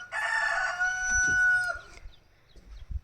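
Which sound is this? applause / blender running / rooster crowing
rooster crowing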